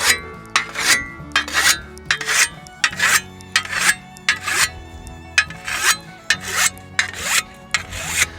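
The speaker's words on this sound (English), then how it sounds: "going to go through with each of my sharpening stones" A coarse artificial sharpening stone is drawn along a peened scythe blade in a steady rhythm of about fifteen sharp, rasping scrapes, each stroke close, bright and distinct with brief gaps between.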